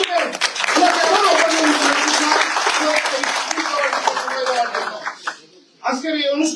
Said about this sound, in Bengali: আবার করতালির মাধ্যমে